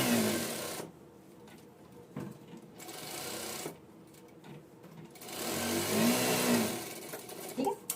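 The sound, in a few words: sewing machine stitching blouse fabric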